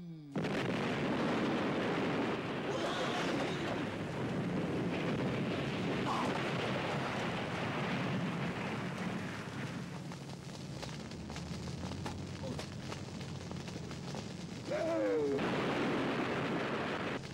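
A bomb blast in a Turkish comedy film: a long, loud roaring explosion that fills the scene and rumbles on with debris-like noise before swelling again near the end.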